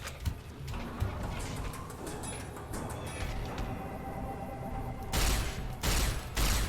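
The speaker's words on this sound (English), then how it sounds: "This plasma rifle does not kick" Plasma rifle fire in Fallout: New Vegas, a series of sharp energy-weapon shots over busy game sound, with the loudest bursts clustered near the end.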